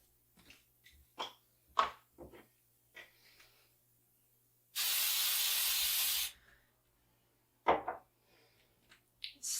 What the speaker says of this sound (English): Spray down the baking dish and place the dough inside.